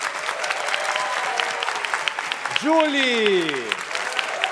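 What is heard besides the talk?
audience applauding the band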